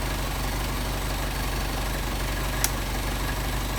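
Mercedes 190SL engine idling on Solex 44PHH carburetors, a steady low rumble close by with an even beat that holds level throughout, broken only by one faint tick partway through.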